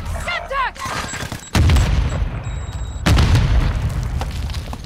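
A Semtex grenade in a shooter video game goes off in two heavy booming blasts a second and a half apart, each followed by rumbling roar, after a brief voice at the start.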